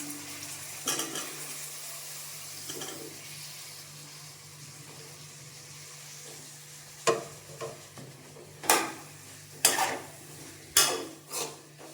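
Eggplant sizzles in a pan of masala, a steady close frying hiss under a low hum, with scattered stirring clinks and ladle scrapes growing sharper toward the end.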